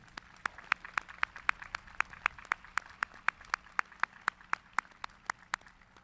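Graduation applause at an NC A&T ceremony, heard as faint, evenly spaced sharp claps in a steady quick rhythm, roughly four per second, over a quiet background with no talking.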